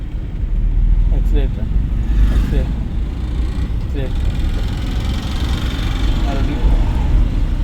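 A driving-school car rolls off under light accelerator with a loud, steady low engine rumble close by, while a voice speaks over it.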